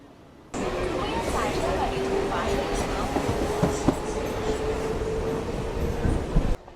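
A moving commuter train carries a passenger standing by the open door, with a continuous loud rumble, rattling carriage noise and occasional clanks, and faint voices in the background.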